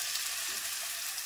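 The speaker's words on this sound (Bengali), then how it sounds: "তেলটা যখন গরম হয়ে এসেছে, ওই পর্যায়ে দিয়ে দিচ্ছি আগে থেকে তৈরি করে রাখা নুডলস।" Noodles sizzle steadily in a pan of hot cooking oil with a close, constant, bright frying hiss and no pauses.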